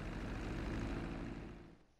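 An airplane engine drones steadily in the GTA 5 video game, a loud, dense roar holding constant through the flight before easing off slightly at the very end.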